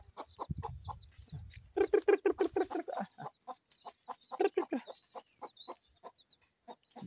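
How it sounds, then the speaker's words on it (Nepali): A flock of village chickens, hens, chicks and roosters, clucking in quick bursts of rhythmic calls, fairly close in a quiet outdoor setting, with a low rumble early on. "कुखुराहरू पनि थुप्रो छ पोथीहरू चल्लाहरू भालेहरू"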